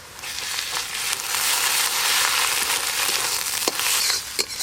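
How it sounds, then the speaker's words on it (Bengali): Ginger, garlic and onion paste frying in a pan, a steady close sizzle with occasional stirring scrapes, loud and continuous throughout with no talk. "আদা রসুন বাটা দিয়ে সব কিছু একসঙ্গে ভালো করে ভেজে নেব।"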